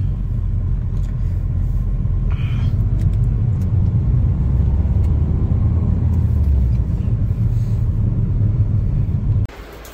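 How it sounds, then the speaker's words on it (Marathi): A Maruti Alto car drives past or along, a steady low engine rumble with road noise that holds for most of the stretch before cutting off abruptly near the end. "आता आल्टो चालवणार बायको पहिल्यांदा"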